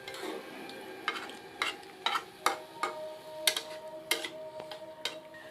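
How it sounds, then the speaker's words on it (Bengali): Dried shrimp curry being stirred in a pan, with spoon scrapes and clicks landing in an irregular rhythm over a faint background sizzle, close and fairly quiet. "আবার কিছুক্ষণ নাড়িয়ে নেবেন"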